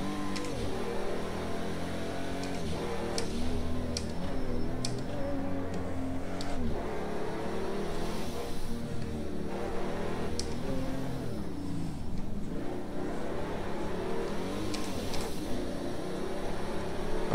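A Pagani Huayra BC engine in the Project Cars 2 racing game drones steadily throughout, its pitch rising and falling as the car revs and shifts, with faint clicks over the top.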